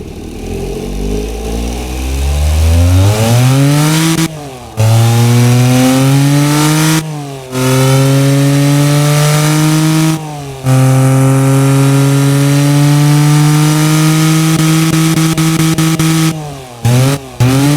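A tiny car engine with a single-barrel carburetor, fed regular leaded 92-octane fuel, fires up and revs loudly, its pitch climbing then holding steady, with a few abrupt cuts between pulls.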